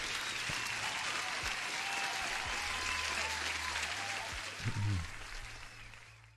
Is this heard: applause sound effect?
yes